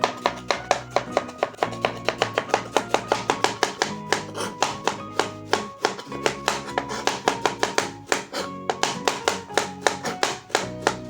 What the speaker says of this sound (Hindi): और आप चाहें तो ये 2-3 इकट्ठी रख के इसकी स्लाइसिंग हो सकती है इस तरह से